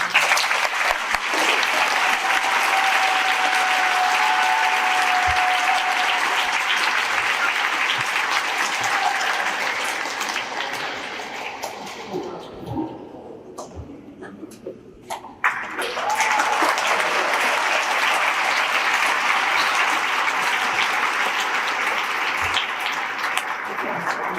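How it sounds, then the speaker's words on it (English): Audience at a middle school veterans celebration applauds veterans in a long, loud, dense burst that fades briefly near the middle, then surges back to full strength with no talking. "Let's give a round of applause to all of our veterans"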